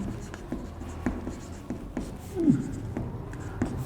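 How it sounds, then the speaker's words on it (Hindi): Chalk or marker writing out Coulomb's law on a classroom board during a physics lecture: faint, soft scratchy strokes in short bursts over quiet room tone. "कूलम का नियम सदिश रूप में लिखते हैं इसको"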